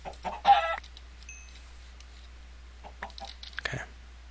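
Chicken in a video game clucking in a few short, close bursts, with quiet gaps between the calls.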